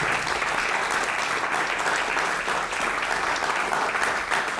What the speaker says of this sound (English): So let's give an applause to my panelists.